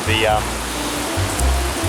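Heavy rain pours down beneath Story Bridge in Brisbane as a steady, loud, broadband hiss that continues throughout, with a low rumble and a voice heard briefly over it.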